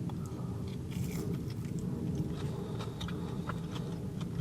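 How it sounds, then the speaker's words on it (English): Close crunching and chewing of a small piece of fried battered halloumi, a steady run of crisp bites and mouth noises with no talking. "You get the lovely crunch from the batter on the outside"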